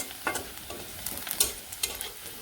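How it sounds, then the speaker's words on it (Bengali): Chopped onion frying in oil in a pan ahead of okra fry, a continuous close sizzle broken by quick scraping stirs. "এই যে পেঁয়াজটা আর কি ভাজি ভাজি করে নিতেছি"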